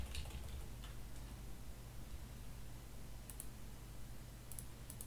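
Sharp, quiet mouse clicks spaced a few seconds apart while installing WEBCON BPS Express 2020 software, heard alone over a faint steady hum.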